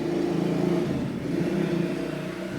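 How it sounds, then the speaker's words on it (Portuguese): A motorcycle passes nearby, its engine a steady mid-pitched drone that swells slightly and eases off at moderate volume, with no voices. "esperar a moto passar"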